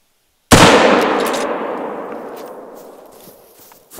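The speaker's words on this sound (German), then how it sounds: "Ach, geil, wie man den Schuss hört" A single sharp rifle shot in the video game theHunter: Call of the Wild cracks out loudly after a brief silence, followed by a long rolling echo that fades slowly.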